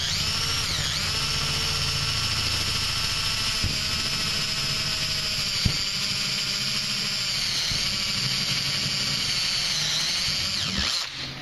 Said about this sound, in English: Then make your first hole to get started. I mean, you can just use I got a uni bit here,